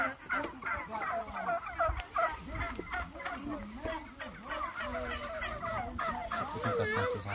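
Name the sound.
birds in a fenced pen on a farm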